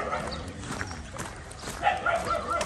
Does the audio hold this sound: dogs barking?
yes